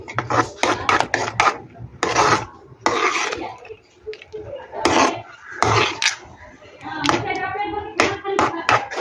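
A spoon scrapes and rasps against a pan while a thick grape sweet mixture with added ghee is stirred, loud close repeated strokes in irregular bursts, with a few clinks of metal between them.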